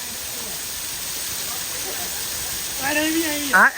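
Water rushes at Dhulda waterfall, heard as a steady, broad hiss that stays constant throughout. People start talking nearby over the roar toward the end.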